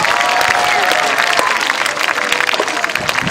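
An arena crowd at a gladiator game claps continuously and densely, loud and close, with faint crowd noise mixed in.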